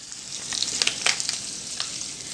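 Ginger garlic paste sizzling in a hot pan for white sauce pasta, with onion and cumin seeds already in: a steady bright hiss with a few sharper crackles and pops, close and alone.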